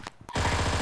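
Rapid automatic gunfire in PUBG Mobile, a fast steady burst of close, loud shots following a few short clicks.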